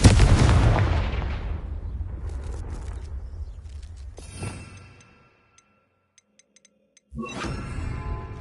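The Confringo fire spell exploding in Hogwarts Legacy: a loud booming blast with a long rumbling decay fading to near silence, a few faint ticks, then a second burst of crackling fire and rumble.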